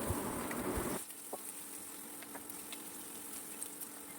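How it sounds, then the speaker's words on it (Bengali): Bay leaf, whole cumin and chopped onions fry in hot oil with a steady close sizzle, loud for the first second and then softer and even, with a few faint clicks and pops. "সেই গরম তেলে আমি দিয়ে দিলাম তেজপাতা, গোটা জিরে, তারপর কেটে রাখা পেঁয়াজ কুচিগুলো ভালো করে ভেজে নিতে হবে"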